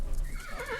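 Horse in a video game lets out a short whinny rising into a sharp, loud squeal at the end, brief and close.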